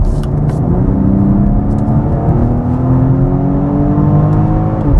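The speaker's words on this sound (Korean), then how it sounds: "역시 고성능 차는 소리를 빼놓을 수가 없는데 X4M은 M카들 중에서는 나름 적극적인 소리를 잘 보여주는 타입에 속합니다" A BMW X4 M Competition engine and exhaust pulls hard under acceleration, a loud close droning roar rising steadily in pitch through the gear with a few faint crackles.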